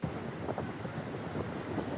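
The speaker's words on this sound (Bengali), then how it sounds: "কুয়াকাটায় উত্তাল হয়ে উঠেছে সমুদ্র, বয়ে যাচ্ছে দমকা হাওয়া" Gusty wind buffets the microphone over the low rumble of rough surf at Kuakata, Bangladesh, during a cyclone storm warning, a constant blustery roar without any voices.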